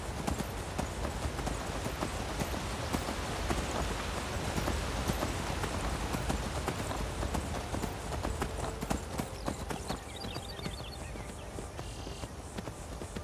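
Rapid hoofbeats clatter steadily as a horse gallops up stairs in the video game Skyrim Special Edition, the quick clip-clop continuing with a faint chime of game sounds near the end.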